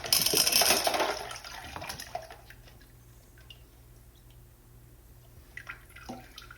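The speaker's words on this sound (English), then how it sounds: "Do a little bucket flush to get these out." Water from a bucket rushes loudly through a prototype toilet bowl being cleared of marbles, surging for about two seconds, then fading to a quiet trickle with a few faint drips and clinks.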